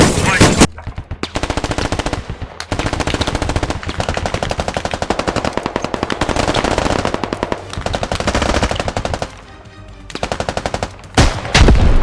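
Loud machine gun fire from a squad-based military video game, heavy PKM-style bursts running in long sustained strings with brief pauses between them, close and dominant.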